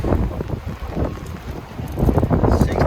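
Strong storm wind gusting up to 60 miles an hour buffets a motorhome, a dense, steady low roar with surges that swell louder toward the end, heard alone without talk.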